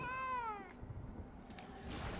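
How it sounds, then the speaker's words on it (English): A cat gives one clear, drawn-out meow up close, fading out after about half a second, followed by quiet room noise with faint rustling. "Kitty cat wants love."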